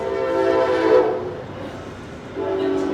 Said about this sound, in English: There goes the train, sorry.